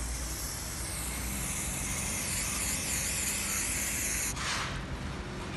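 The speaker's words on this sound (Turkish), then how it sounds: "çekiyor, spreyi sıkıyor." An aerosol of foil remover hisses continuously onto a car bumper, a steady close spray that runs for several seconds with a brief sharper burst near the end.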